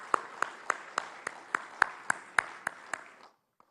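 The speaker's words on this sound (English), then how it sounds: "Can we also please have a loud round of applause?" Audience applause at a Lanka Premier League cricket player auction comes as about a dozen crisp, evenly spaced claps in a steady rhythm, fairly close, then cuts off abruptly into silence.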